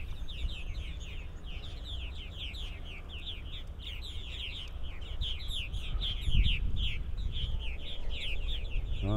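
Many purple martins chirp rapidly and continuously in flight over a creek in the evening at a moderate distance, their calls overlapping above a low background rumble.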